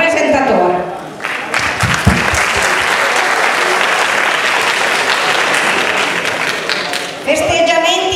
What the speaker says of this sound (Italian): Grazie per l'applauso che dedico a tutta la banda e al presentatore.